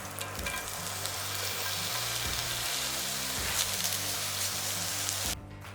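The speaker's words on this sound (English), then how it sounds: "That's the kind of sizzle sound you really don't need me talking over." Sliced onions crackle and sizzle steadily in avocado oil in a hot cast iron skillet, a dense, continuous frying hiss with a low hum underneath, ending abruptly.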